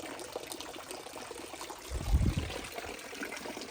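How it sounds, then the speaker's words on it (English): Water flowing and trickling in a crocodile enclosure at an animal sanctuary in cold weather, a faint continuous trickle with a brief louder splashing gurgle midway, no talk. "They all have water flowing on them."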